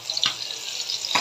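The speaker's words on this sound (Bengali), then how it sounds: "ফ্রাই প্যানে তেল দিয়ে দিলাম, তেলটা গরম হওয়ার জন্য। গরম হয়ে গেছে, এখন মাছগুলো দিয়ে দিই।" Tatkini fish going into hot oil in a frying pan, a close, sharp hiss with two brief bursts of spattering and a steady sizzle in between.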